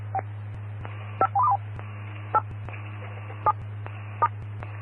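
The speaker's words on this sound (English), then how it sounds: "let's go ahead and hit the tones to put this in weather mode as well" DTMF tones key a Denver-area Skywarn radio repeater on 146.940 MHz into weather mode, several short distinct beeps spaced over a steady low radio hum.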